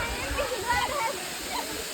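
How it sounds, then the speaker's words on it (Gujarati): The Bilpuri waterfall near Dharampur in Dang, Gujarat, sends out a steady broadband rush of falling water, with voices murmuring faintly in the background. "આ બધું ધોધ છે"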